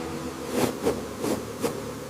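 Bees buzz around a hive being calmed with smoke, a steady low drone with several swelling passes as insects fly close by.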